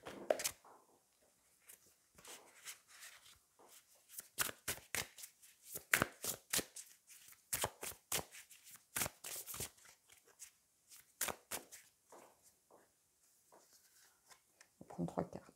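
Wild Unknown tarot cards being shuffled by hand: a quiet, close series of crisp riffling snaps and taps in an irregular rhythm, with a faint voice at the very start and end.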